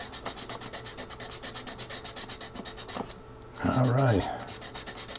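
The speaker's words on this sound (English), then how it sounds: "we're going to roughen up that area there." Close, rhythmic back-and-forth sanding strokes rub the surface of an Estes Sasha model rocket to roughen it. The strokes stop briefly, then someone speaks a few words.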